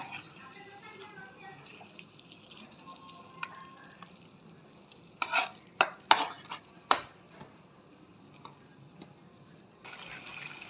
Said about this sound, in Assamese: ভালদৰে লাৰি দিব।